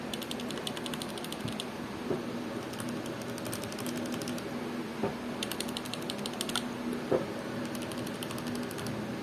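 Mechanical keyboard with red switches, a SteelSeries Apex 7, typed on in a quick sound test, giving a steady run of close, fairly quiet clicky keystroke clatter with occasional louder taps.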